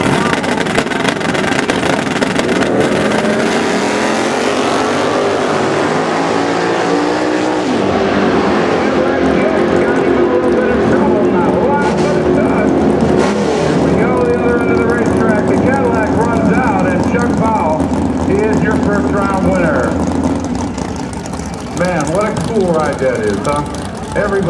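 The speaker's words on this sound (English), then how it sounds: "Everybody is in awe whenever they see that big old Cadillac." A big old Cadillac drag racing at Norwalk, its engine roaring loud and steady throughout with rising and falling revs, while an announcer talks over the noise.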